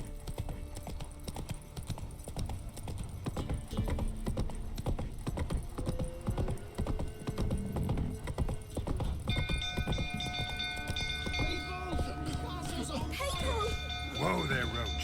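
Roach, a horse in The Witcher 3, gallops with steady, rapid clip-clop hoofbeats throughout, a busy game soundscape with hum and chiming tones layered underneath.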